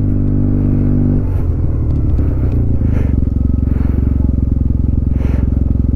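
A Yamaha TMAX 560 scooter fitted with an Akrapovic full exhaust, loud close engine drone that drops in pitch then settles into a deep steady rumble, with faint clatter and wind behind it.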